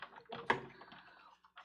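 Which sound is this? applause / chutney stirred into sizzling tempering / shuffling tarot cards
shuffling tarot cards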